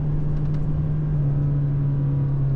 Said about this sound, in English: Little bit of rev hang going on there.